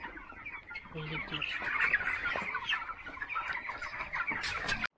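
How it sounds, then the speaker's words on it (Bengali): A flock of chickens clucks and chatters continuously in a poultry house as they crowd the feeders, a dense busy layer of overlapping calls at moderate distance, with no clear speech. "সব ফিটারে একদম ঝাঁক ধরে ধরে মুরগি খাওয়া দাওয়া করতেছে"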